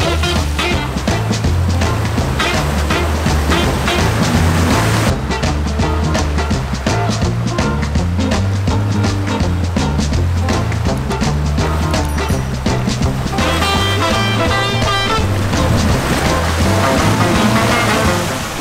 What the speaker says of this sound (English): especially with this water crossing, keeping the bow in front.